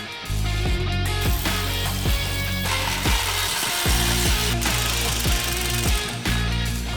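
Right-angle ratchet working a fastener during a build on an Isuzu D-Max, a steady run of rapid mechanical clicking and rasping strokes with brief pauses, close and fairly loud, no talking.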